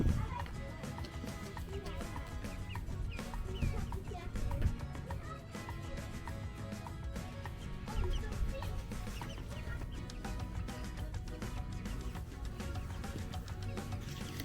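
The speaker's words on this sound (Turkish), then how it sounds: "Gel tavuklara bakalım gel" Chickens cluck steadily in a village garden in Germany amid a dense, busy outdoor background that keeps going the whole time.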